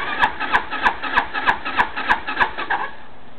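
A XY260T-4 260cc scooter engine being started, giving a rapid, steady series of about nine loud rhythmic pulses close by, then fading out.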